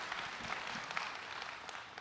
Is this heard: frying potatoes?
no